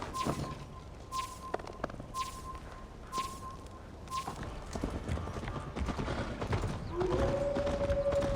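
Horse hooves from the video game Assassin's Creed Valhalla thud in a steady, even rhythm over a rushing background, and a thin whining tone rises near the end.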